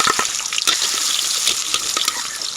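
Garlic and onion sautéing in plenty of oil for a Filipino laksa, a loud, close, steady sizzle with crackles and small pops throughout.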